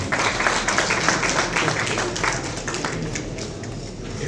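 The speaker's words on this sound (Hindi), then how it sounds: "तालियां।" An audience at an unclaimed-assets public event in Beawar gives dense, continuous clapping that fades slightly toward the end, with a few voices mixed in.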